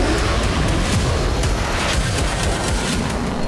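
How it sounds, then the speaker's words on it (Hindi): Loud, dense booming blasts from a fighter jet's sonic boom over Beirut, a sustained heavy rumble with repeated sharp cracks throughout, no talk. "फाइटर जेट के गुजरते ही सोनिक बूम का जोरदार विस्फोट होता है।"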